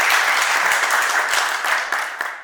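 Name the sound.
audience applause for General Cabal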